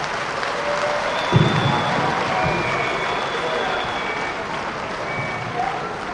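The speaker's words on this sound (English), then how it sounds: "Let's keep the applause going" A crowd applauding at a Vision 2050 event in Enugu, steady dense clapping that carries on throughout at an even level, with a faint voice mixed in.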